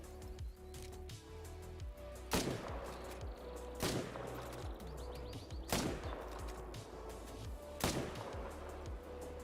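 Four loud, sharp rifle shots spaced about two seconds apart ring out while hunting a lion in theHunter: Call of the Wild, each crack echoing over a steady low ambient hum.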